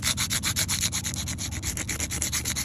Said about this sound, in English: I'm going to press it in place, and I'm just going to rub over it just a little bit